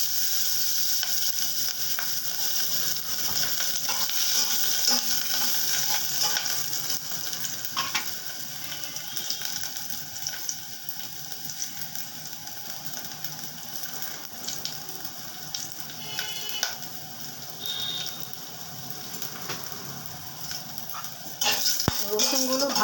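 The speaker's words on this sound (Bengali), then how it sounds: "এবার দিয়ে দিচ্ছি রসুনগুলো।" Garlic fries in hot oil, a steady close sizzle with a utensil scraping and clinking against the pan as it is stirred, and a sharp metallic knock near the end.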